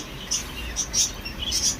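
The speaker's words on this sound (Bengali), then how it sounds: "এখানে এগুলো দেশি কবুতর আছে।" Birds at a market selling native desi pigeons and other breeds, with several short high chirps and tweets scattered over a low background murmur, close and fairly loud.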